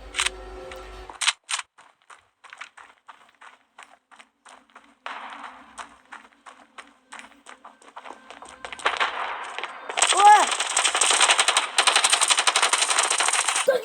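Rapid bursts of video game gunfire in a one-on-one competitive match crackle in sharp clusters, starting sparse and building into a dense, sustained barrage of shots toward the end.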